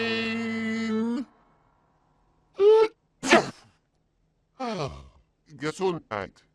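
A cartoon sneeze in a VeggieTales song scene bursts out amid short vocal sounds and breaths, following a sustained sung note that cuts off, with quiet gaps between the outbursts.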